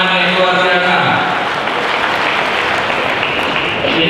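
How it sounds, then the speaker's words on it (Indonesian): Sustained, loud applause from a student audience at a Golkar Party political gathering in North Sumatra, a dense, steady wash of clapping that holds throughout with some harmonic crowd noise underneath. "Kita beri tepuk tangan yang luar biasa."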